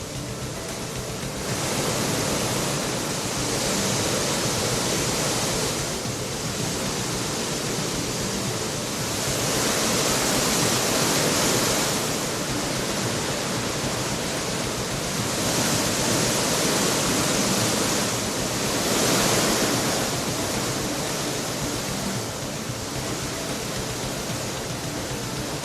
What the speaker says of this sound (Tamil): பேச்சிப்பாறை அணையிலிருந்து திறக்கப்பட்ட 1000 கன அடி உபரி நீரால் திருப்பரப்பு அருவியில் நீர்வரத்து அதிகரித்து காணப்படுகிறது.